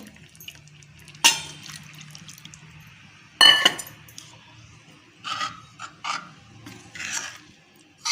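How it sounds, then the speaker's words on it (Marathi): A couple of sharp splashes of water land in a pot of spinach, followed by softer bubbling and dribbling, close by with no talking. "थोडंसं पाणी घालते"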